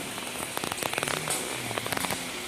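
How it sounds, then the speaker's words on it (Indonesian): Light drizzle at a toll road construction site in Sumatra, Indonesia, a steady hiss of fine rain with scattered soft pattering drops across the whole stretch, no voices. "Ada lagi hujan rintik-rintik."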